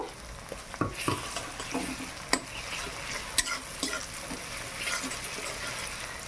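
Onions and garlic paste fry in a pan while being stirred, giving a steady close sizzle with occasional scraping and clinking spoon strokes.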